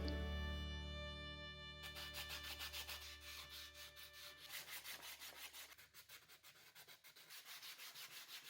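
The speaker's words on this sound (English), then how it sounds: "the wood fill should be dry by now, so time to sand." Dried wood filler on a box is sanded by hand in rhythmic back-and-forth rubbing strokes, close and steady, with no talk over it.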